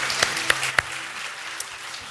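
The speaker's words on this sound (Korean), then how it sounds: "다시 한번 박수로 격려해 주시면 감사하겠습니다." A church congregation claps in encouragement, fairly quiet and scattered with a few sharper individual claps standing out over a faint low hum.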